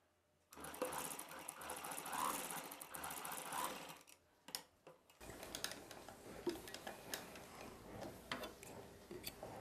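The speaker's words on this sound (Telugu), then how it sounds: "ఈ పీస్ జరగకుండా ఉండడం కోసం మధ్యలో ఒక కుట్టు వేసేసుకోవాలి" A sewing machine runs in a steady stitching burst, sewing a line through the middle of an umbrella dress piece to hold it in place. The machine then stops and is followed by softer handling clicks and rustles up close.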